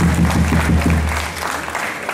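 An audience at a Polish volleyball club's 15th anniversary celebration breaks into dense, steady applause, many hands clapping at once with a low background hum, easing slightly toward the end.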